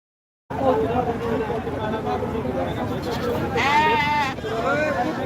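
Sheep bleat at a busy livestock market in Mhaswad, India, one clear bleat rising above a steady crowd babble and background noise.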